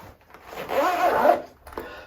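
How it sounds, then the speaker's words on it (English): A zipper on a pocket of a PGY Tech OneGo camera and drone backpack is pulled open in one smooth, close, scratchy stroke lasting about a second, followed by a brief softer rub. "I'm only unzipping here now."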